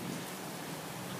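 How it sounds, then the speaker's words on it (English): Heavy rain pouring down and bouncing off parked cars, a dense steady hiss of drops on surfaces, uniform and fairly soft, with no voices. "Look how hard it's raining. See it bouncing off the cars?"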